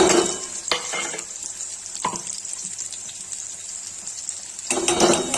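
Steady frying sizzle of onions fills the pan, broken by a few sharp clinks and scrapes of a utensil stirring, with a louder burst of sizzling at the end.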